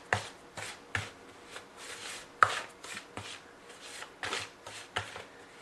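Masa harina, achote powder, Goya and seasoning salt being mixed together in a bowl, giving a series of short scraping, rubbing strokes at a steady, roughly half-second rhythm, close and moderately loud with no talking.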